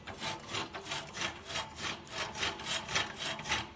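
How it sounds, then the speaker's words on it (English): Reciprocating cutter bar of a Haban sickle bar mower under restoration, worked steadily with a rapid, even back-and-forth rasp pulsing about four times a second, close and alone. "I can actually function this sickle bar now."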